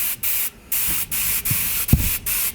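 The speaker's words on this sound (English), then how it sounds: "I like to spray a little bit just to get, you know what you're getting, because you can adjust the pressure" Paint spray gun test-sprayed before coating a fishing lure white, giving several short bursts of hissing spray separated by brief pauses, close and loud.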